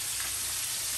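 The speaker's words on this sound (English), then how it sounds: "we're gonna put in a set to fry, we're gonna fry them all out" Prawns and chicken frying in a pan, a brief close burst of constant hissing sizzle with no talking.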